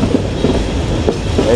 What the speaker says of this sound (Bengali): আমাদের ট্রেন এখন চলতেছে